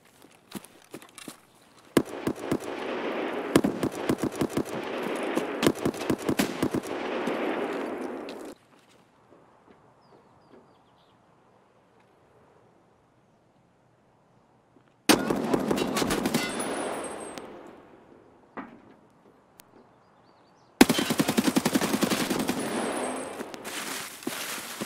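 Bursts of AKS-74U automatic rifle fire in Escape From Tarkov, loud and close, with a long sustained volley, then silence, then two more rapid bursts with sharp metallic clatter.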